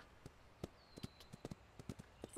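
Horse hooves in the ranch video game The Ranch of Rivershine clop at a slow, uneven walk, a dozen or so crisp hoofbeats sounding faint and close, with a brief thin whistle partway through.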